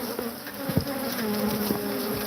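Bees buzz steadily and close by outdoors in Tombstone, a continuous droning hum with a few louder passes near the listener and no talk.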